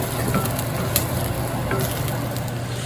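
Garlic hits a hot pan with onions that have turned translucent, sending up a steady, close sizzle of frying with faint stirring scrapes throughout and no talking.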